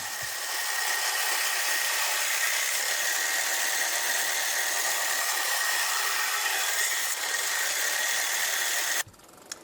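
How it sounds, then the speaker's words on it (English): An angle grinder fitted with a sanding disc works the bevel on a blade cut from an old saw blade, a loud continuous high-pitched grinding whine that runs steadily for about nine seconds, then cuts off abruptly. "I start the bevels with my angle grinder with a sanding disc"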